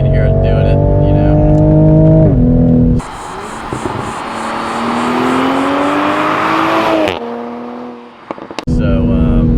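A 2020 Toyota Supra in sport mode revs loudly through gear shifts, the engine note climbing then dropping with sharp crackles and pops from the exhaust between shifts, heard up close from inside.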